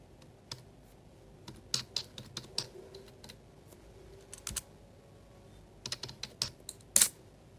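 An IP address is entered on a tablet, producing sparse, quiet taps in short irregular bursts with pauses between them and one louder click near the end.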